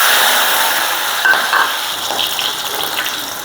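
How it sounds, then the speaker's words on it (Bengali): Prawns fry in hot oil in a wok, giving a steady, close sizzle with a bright hiss and a few brief crackles, with no talking. "চিংড়ি মাছ এখন কড়াইতে তেল দিয়ে দিলাম"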